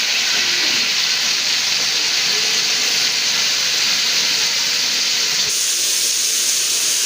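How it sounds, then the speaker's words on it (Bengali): Shing fish (stinging catfish) frying in hot oil, giving off a loud, steady, even hiss that runs unbroken throughout with no voices. "তো মাছগুলো সুন্দর মতন দিয়ে দেবো ভাজার জন্য"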